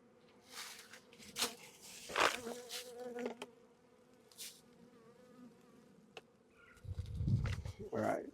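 Honey bees in a nuc box buzz faintly and steadily during a hive inspection. Sharper buzzes from bees flying close come and go, and a voice talks quietly at times.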